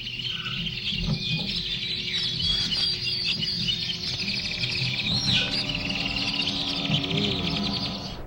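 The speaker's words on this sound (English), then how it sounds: "Primo is sampling birds from the beginning of a very obscure record that's just birds, a gong, and a harp." Birds chirp and tweet in a dense, continuous chorus sampled from an old record, with bright overlapping calls and a faint steady tone underneath.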